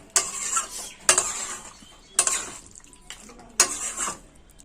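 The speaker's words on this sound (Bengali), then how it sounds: "মাংসটার মধ্যে খুব সুন্দর করে মশলাটা লাগিয়ে নিতে হবে" Spice paste is worked into chicken pieces in a bowl, four sharp, wet, scraping strokes about a second apart, each trailing off into a softer squelch, close and without talk.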